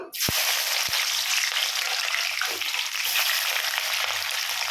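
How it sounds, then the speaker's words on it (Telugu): Sliced onions and green chilies dropped into hot oil for a fish curry, setting off a loud, steady, close sizzle that covers the whole stretch, with a couple of brief knocks at the start. "ఇదైతే ఆయిల్ మరిగింది ఉల్లిగడ్డ పచ్చిమిర్చి ముందుగా వేసుకుందాం"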